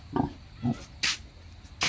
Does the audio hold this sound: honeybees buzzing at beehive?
no